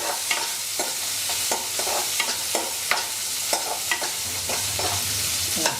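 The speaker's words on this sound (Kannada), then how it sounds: "ಈರುಳ್ಳಿ ಚೆನ್ನಾಗಿ ಹುರ್ಕೋಬೇಕು" Onions sizzle in hot oil with cumin and garlic for a sambar, a steady fry broken by regular scraping strokes of a spoon around the pan, close and continuous with no voices.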